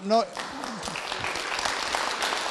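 A crowd applauds with a continuous patter of clapping. A voice speaks briefly at the start, then the clapping carries on to the end.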